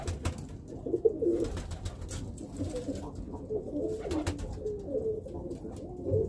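Several Birmingham Roller pigeons coo in low, soft, repeated murmurs close by, with occasional light clicks and rustles.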